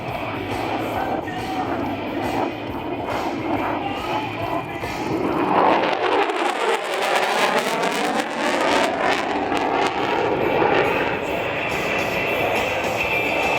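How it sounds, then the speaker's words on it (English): An F-35B fighter jet makes a high-speed pass at an air show at Iwakuni, its roar swelling and sweeping past with a falling, Doppler-like tone before settling into a sustained rush. The whole pass is loud and dense, with faint crowd and announcer sounds underneath. "From the left, here comes Major Stewart and the high-speed pass."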